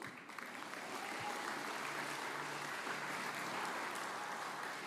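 A congregation claps loudly and steadily through a sermon, a dense, sustained wash of applause with no voices standing out.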